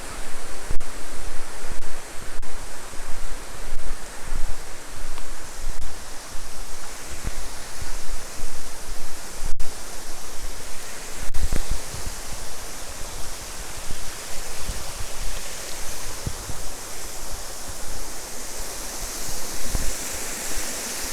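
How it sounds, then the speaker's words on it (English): A waterfall in Roe Valley Country Park roars as a steady, dense rush of falling water, loud and close, continuous with no breaks and no voices over it. "Love this waterfall."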